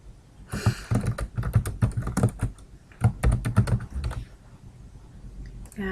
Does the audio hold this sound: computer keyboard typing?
yes